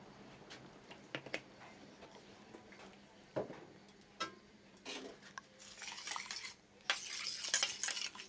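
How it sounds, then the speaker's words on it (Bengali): A duck egg frying in a pan at home is heard as a quiet sizzle under scattered utensil clinks and scraping, with louder bursts of spatter and handling toward the end. "ডিম ভাজা হচ্ছে।"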